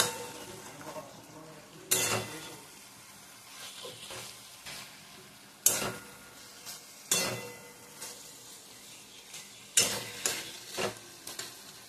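Fried bata fish, prepared with coriander leaves and lemon zest, goes back into a pan. A low frying hiss runs under several sharp, loud clatters of stirring and pan contact spaced through the clip, with no talking.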